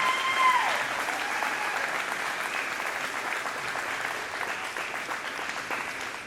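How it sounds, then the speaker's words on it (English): An audience at a marching band fall concert claps steadily in sustained, dense applause that gradually softens over several seconds. "So if you give them a round of applause,"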